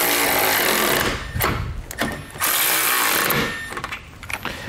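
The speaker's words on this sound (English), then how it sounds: "Our large bolts, we'll use a 19 millimeter socket and wrench." A steady, rattling mechanical whir from a socket wrench driving large 19 mm bolts on a 2019 Lincoln Nautilus base plate kit, running in several bursts with short pauses between them.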